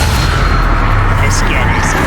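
Incendio fire spell cast during combat in the Hogwarts Legacy video game: a continuous, loud, booming rush of blast-like crackle with brief brighter flares near the end, thick and unbroken throughout.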